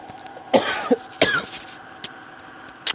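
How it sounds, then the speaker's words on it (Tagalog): Two short, harsh coughs close to the mic, the second a little longer, followed by faint quiet room noise and a couple of small clicks. "pasensya na, sorry tong ubo natin"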